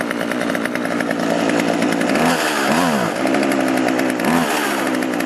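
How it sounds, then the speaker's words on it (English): A Husqvarna 136 chainsaw, just after a carburetor rebuild and fuel line repair, fires up on choke and runs loud and close with a steady buzzing idle, briefly revving up and down a few times. "pull it with the choke on until it fires up"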